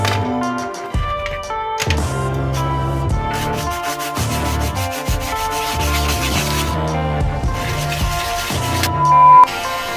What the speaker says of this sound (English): I kind of cheated by using an electric sander.